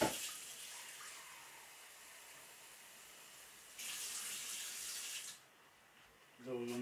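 Warm water runs steadily from a kitchen tap in a continuous hiss, its flow growing stronger for a moment before easing back, then picking up again near the end.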